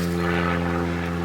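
Steady droning hum of a propeller aircraft engine, constant and fairly loud, with no voices present.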